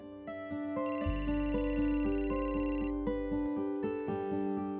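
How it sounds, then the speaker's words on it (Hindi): A phone rings with a repeating electronic melody, tones stepping up and down in a steady loop, clear and moderately loud indoors. "अरे देखना किसका फोन है।"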